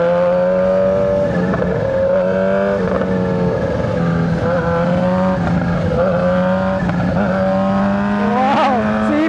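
A Kawasaki ZH2 big bike engine droning loud and close with a steady revving tone, a few short throttle surges along the way and no talking.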